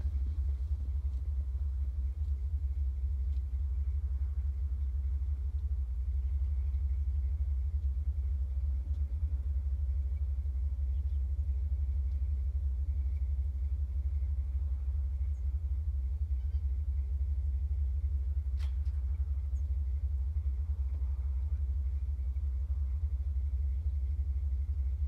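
A Jeep engine runs in the snow, a steady, low idling rumble that holds evenly throughout with little variation, fairly quiet and alone.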